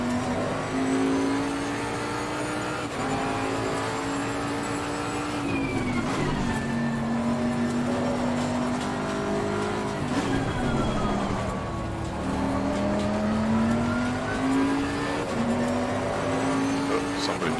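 Race car engines drone steadily at a Nürburgring front-row start in Assetto Corsa Competizione, several engines whining and shifting pitch together as the cars get away, with a voice talking over them.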